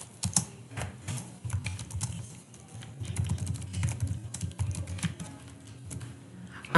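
Fast, uneven keyboard typing while a Word document on a computer is edited, with close, light key clicks running through the whole stretch and no talk over them.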